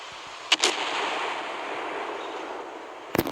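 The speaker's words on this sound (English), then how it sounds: "Jean Bart having another broadside here" Heavy naval gun blasts from a battleship broadside in the video game Naval Creed: two sharp booms close together, then a long rumbling tail of low noise and another loud blast at the end.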